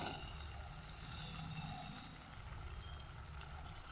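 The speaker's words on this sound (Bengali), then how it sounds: "এবার এর মধ্যে দিয়ে দেবো আমার পরিমাণ মতো পানি" Water pours into a pan of cooked-down spice paste for a parshe fish mustard curry, a steady, close gushing flow that continues without pause.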